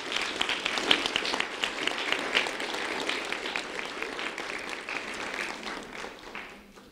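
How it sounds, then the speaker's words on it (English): Steady applause from a crowd fills the whole stretch, dense and even, slowly tapering toward the end. "a round of applause for Dayanara Cordovas"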